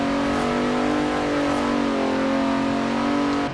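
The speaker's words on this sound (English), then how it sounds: "this game seems to have a habit of allowing you to over-rev quite drastically" A car engine in Forza Horizon 4 over-revs, holding a high, strained rev with a steady buzzing drone, loud and continuous, dipping slightly before cutting off.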